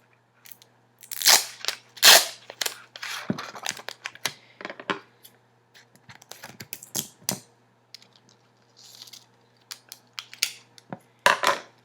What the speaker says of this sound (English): this is where you're going to use your tape to tape it together.